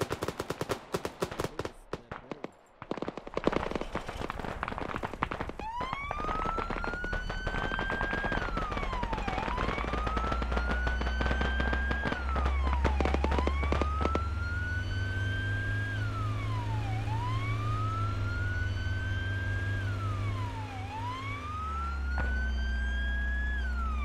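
An ambulance siren in the military game Arma 3 wails in long rising-and-falling sweeps, steady and prominent, over a low engine rumble, with a dense crackle of gunfire at the start.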